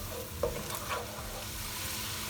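Grated coconut and spices fry in a pan for Malvani shrimp curry, giving a quiet, steady sizzle with a few faint stirring scrapes and no one talking.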